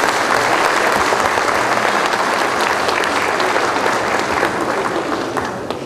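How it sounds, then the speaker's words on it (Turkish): Loud, dense applause from an award ceremony audience welcoming a speaker to the stage, a sustained crowd of clapping that stays full for several seconds before easing slightly at the end. "Sayın Yücel Hacaloğlu'yu alkışlarınızla sahneye davet ediyoruz"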